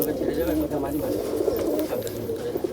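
Pigeons coo in a continuous low murmur at a pigeon sale, with someone talking over them.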